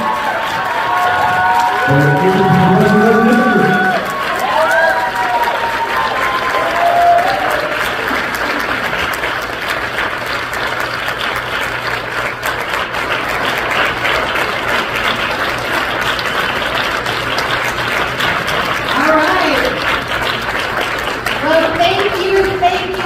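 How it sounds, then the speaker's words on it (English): A church congregation at New Hope stands and applauds for a visiting congressional speaker, sustained loud clapping filling the room with some cheering voices and talk mixed in throughout. "Come on, stand and clap your hands for Jeffries, our Lord."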